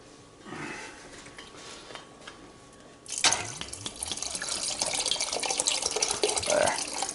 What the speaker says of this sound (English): I'm going to add some more water to that